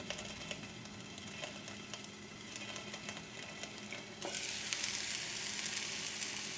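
Food frying in a non-stick pan with only a little oil, a continuous close sizzle with light crackles that swells louder partway through.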